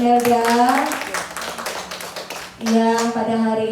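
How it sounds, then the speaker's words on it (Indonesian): Clapping from an audience at an Indonesian teachers' dissemination event on positive school culture, a burst of taps with a speaking voice over it at the start and end. "Beri tepuk tangan Ibu sekalian untuk Bu Dwi Imelda"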